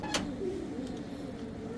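Pigeons cooing in a loft, soft low repeated coos heard close but faint, with a brief higher chirp near the start and no talking.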